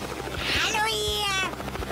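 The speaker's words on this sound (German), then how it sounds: "Woher habt ihr den Helikopter?" A cartoon helicopter flies in, its chopping rotor beat pulsing steadily beneath bright, rising whirring tones over about two seconds, with voices talking alongside it.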